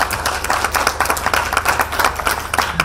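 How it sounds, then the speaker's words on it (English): Audience applause at a UN environment side event, a steady patter of clapping hands filling the room at moderate loudness without any talk over it. "Round of applause, ladies and gentlemen."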